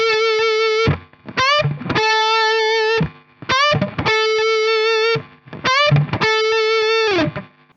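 Distorted electric guitar chugs through a choppy, palm-muted stoner rock riff, sustained chords cut off sharply between short stabs and slides, loud and close with no voices.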